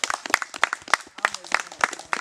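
A small group of scouts clapping, sharp distinct handclaps in a loose repeated rhythm, close and fairly sparse over a couple of seconds.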